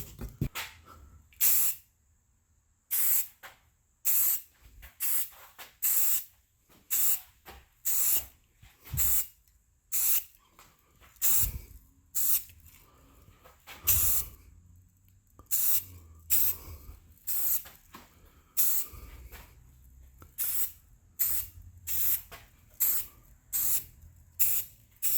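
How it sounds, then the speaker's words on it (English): Gauge covers for a Kawasaki Z1 KZ900 are spray painted with stainless paint from an aerosol can, in many short, sharp hissing bursts separated by brief pauses, near and fairly loud, with no talking. "going to shoot the inside of this one with stainless"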